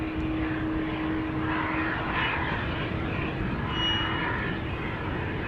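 An Emirates Boeing 777 airliner passes overhead near Amsterdam Schiphol Airport, a steady, broad engine roar that holds loud and even throughout, with no talk.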